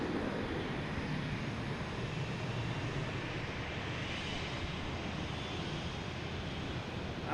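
A Delta airliner at Boston Logan Airport gives off a broad steady jet roar, moderately loud and continuous, mixed with wind buffeting on the microphone and no talk.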